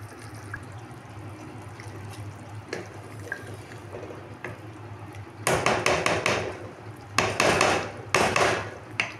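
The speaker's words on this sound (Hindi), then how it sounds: "अब हम इसमें चावल डालेंगे।" Rice poured into a cooking pot for beef pulao, loud rushing bursts of grains hitting the pot after a quieter stretch of light knocks and background hum.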